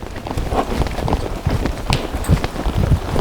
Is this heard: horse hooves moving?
yes